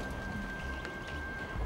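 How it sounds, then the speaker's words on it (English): Pouring rain used as a storytelling sound effect makes a continuous soft hiss of falling water, steady and fairly close, with no speech on top. "The rain, it poured down for days."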